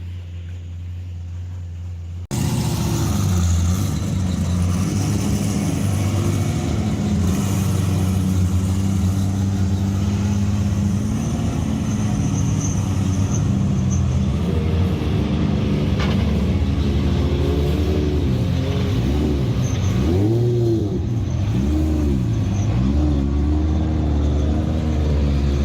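A Formula Drift competition car's engine revving hard and loud at the Atlanta track, a sustained high-load roar with rising and falling pitch sweeps in the later part, heard close and alone.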